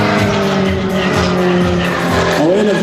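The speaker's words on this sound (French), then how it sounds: "Le bruit que vous entendez, c'est l'air qui recule dans l'hélice." An aerobatic propeller plane performing a torque roll at an air show in Azelot, France, gives a loud, sustained whining engine drone with a wavering, pulsing tone and a rising pitch sweep near the end.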